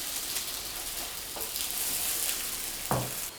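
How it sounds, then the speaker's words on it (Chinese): Chive pancakes sizzle on a covered electric griddle in a soft, continuous hiss, with a few faint taps and one brief clunk near the end, and nobody speaking. "盖上盖子，开上下火烙制。 烙制饼铛的周围冒上热气，给它翻面。"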